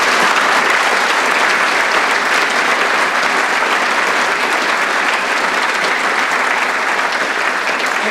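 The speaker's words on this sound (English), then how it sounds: "Please give them a huge round of applause." Loud, even applause from a concert audience at a brass band remembrance concert, many hands clapping continuously without a break and no voices over it.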